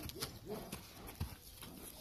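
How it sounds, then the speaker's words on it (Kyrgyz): A black pacer horse runs at a horse market, its hooves making a quick, rhythmic clip-clop at moderate distance over faint background noise. "Кара жорго мына көрүңүздөр жүгүрүшүн."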